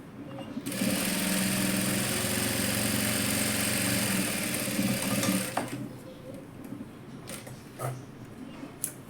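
A sewing machine stitches fabric for a dress in a steady, close whirring run of about five seconds, then stops abruptly, followed by a few light clicks and handling sounds.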